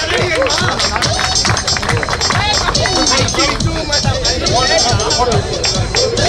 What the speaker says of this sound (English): So can we have a round of applause for Marshall?